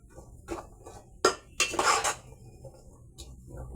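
A spoon scrapes and knocks inside a pot while vegetable soup is stirred, in several short clattering strokes with quiet gaps between them.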